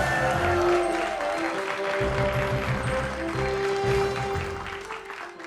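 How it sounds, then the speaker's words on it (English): Audience applause at a comedy roast of Captain America, a steady wash of clapping from a crowd that holds fairly even for several seconds, with musical tones running underneath. "Engage applause protocols for the Vision!"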